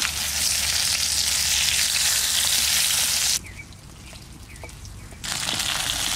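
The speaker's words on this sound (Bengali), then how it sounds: "মাছটা ভাজা হয়ে গেছে," Fish fries in hot oil in a pan, a loud close sizzle that crackles steadily, drops away briefly to a quieter hiss, then returns at full strength; no one speaks.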